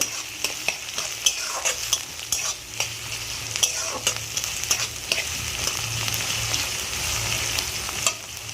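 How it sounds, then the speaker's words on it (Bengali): Chopped onion fries in a pan with a steady close sizzle, punctuated by repeated sharp scrapes and taps of a spatula as it is stirred; nobody speaks. "এবার আমি পেঁয়াজ কুচিটা দিয়ে দেবো পেঁয়াজটা ভেজে নেব"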